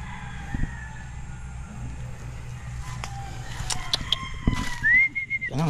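Chickens and a rooster on a Filipino farm, with scattered clucks and a short crowing call near the end over a steady outdoor background.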